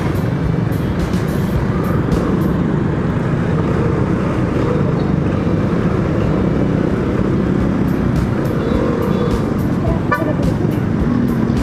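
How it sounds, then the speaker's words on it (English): Heavy road traffic in Ortigas, Metro Manila, keeps up a loud, steady roar of engines throughout, with short car-horn toots rising above it near the end. "Traffic talaga dito sa Ortigas,"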